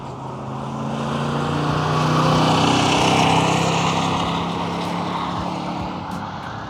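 A 1971 Corvette convertible engine pulls through the gears outdoors, a steady droning roar that swells as the car passes near and then fades slightly away, with no talk over it.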